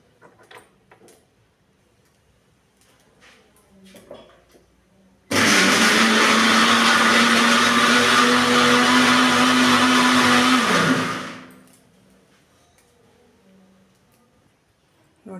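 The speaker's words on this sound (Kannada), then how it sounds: "ನೆಕ್ಸ್ಟು ನಾನು ಮಿಕ್ಸಿ ಮಾಡ್ಕೊತೀನಿ." A kitchen mixer grinder whirs loudly for about six seconds as it blends fried masala into a smooth paste for a paneer dish. It starts abruptly, holds a steady high whine, then winds down amid quiet background sounds.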